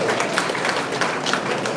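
Applause from an audience at the inauguration of a skill development centre. It is a dense, steady wash of many hands clapping at once and sounds close and fairly loud. It is brief and unbroken, with no voices over it.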